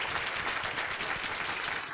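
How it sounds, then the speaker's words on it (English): Audience applauding a student at a school program, a dense steady wash of many hands clapping throughout at even loudness. "Give him an applause."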